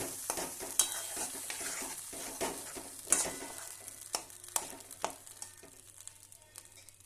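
Spices being stir-fried together in a pan for a cauliflower roast, making a quiet, close sizzle with repeated scraping and clinking stir strokes at an uneven rhythm, without talk.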